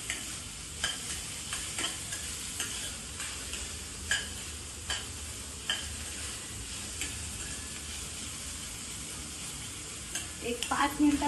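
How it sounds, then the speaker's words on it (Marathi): Sliced onion and four or five green chillies fry in a pan, a continuous close sizzle broken by repeated scraping stirs and light taps of the spoon against the pan. "कांदा आणि हिरवी मिरची चांगली भाजून घ्यायची आहे"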